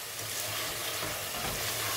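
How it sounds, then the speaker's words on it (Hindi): Garam masala and chili flakes frying for degi chicken pulao, a continuous hissing sizzle with light stirring, steady and fairly close, no talking. "और इसको भूनना है 4 से 5 मिनट। इसको अच्छे से भूनना है ताकि मसालों का कच्चापन खत्म हो जाए।"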